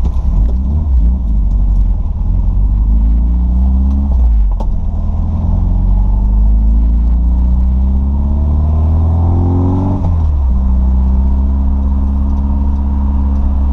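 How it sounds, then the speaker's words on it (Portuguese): A square-body Volkswagen Voyage engine idles loudly while warming up, then climbs in a long rev that peaks around ten seconds and drops back to a rumbling idle, close and continuous with no talking. "Dá uma esquentadinha no motor, né?"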